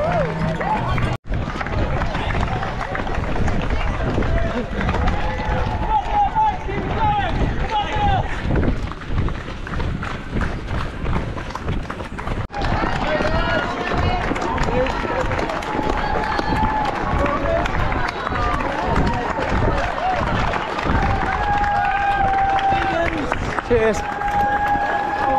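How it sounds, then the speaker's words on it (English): Spectators line the Manchester Marathon 2021 course, a broad crowd noise of cheering and clapping heard from among the runners, with steady running footsteps and wind buffeting the microphone. Voices talk over it. "What a brilliant turnout. Fantastic crowd."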